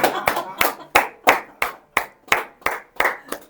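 A church congregation claps in steady unison to acclaim the Lord, about ten sharp, evenly spaced hand claps in a quick rhythm with a reverberant room tail and no talking.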